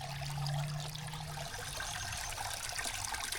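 Water spilling over a spillway onto rock in a backyard bird spa, a steady close trickle and splash running throughout with a low hum in the first part.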